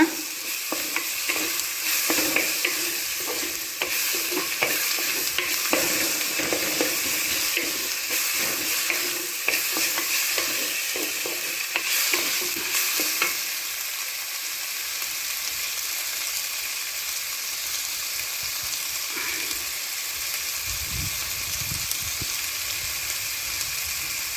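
Tomatoes and other ingredients for quail gravy sauté in a pan with a loud, steady sizzle. Busy stirring scrapes fill the first half, then the frying carries on more evenly, with faint low knocks near the end. No voices are heard.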